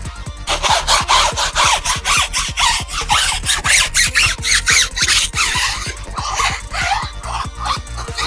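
Rapid, rhythmic strokes of a clay bar rubbing a Range Rover Sport's paint scrape back and forth up close, loud and gritty like sandpaper on a hard surface, with no talking.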